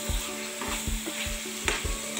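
Chicken curry sizzles in a pan as it is stirred in quick, rhythmic strokes, each scrape thudding close over a continuous loud frying hiss.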